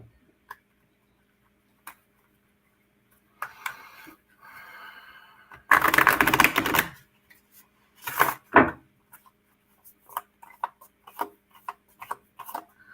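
Cards are shuffled close by in a few rustling bursts, one longer and louder, with scattered soft taps and clicks in between.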